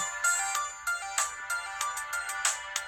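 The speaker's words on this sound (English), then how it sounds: "this would be her ringtone to wake up every single morning" A bright electronic phone alarm ringtone plays alone, a repeating pattern of high chiming notes at moderate volume.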